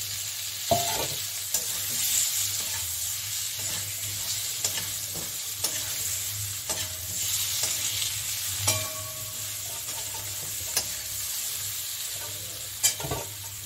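Boiled potato goes into garlic and onion frying in a pan and is stirred. A constant near sizzle runs throughout, broken by irregular scraping and tapping from the spatula, with no talking.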